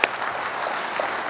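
A panel audience claps in a brief, dense burst of applause with a sharp start, steady and moderately loud throughout, with no voices over it.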